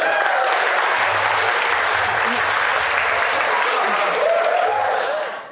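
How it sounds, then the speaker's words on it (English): Wedding guests break into sustained, dense applause close by, a steady roar of clapping that holds evenly for several seconds before fading out at the end, with faint voices mixed underneath. "Please give yourselves a round of applause."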